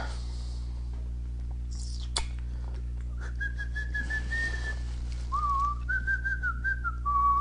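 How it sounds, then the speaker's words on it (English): A person whistles a few wavering sustained notes after a couple of sharp clicks, over a low steady hum. "Or you could whistle."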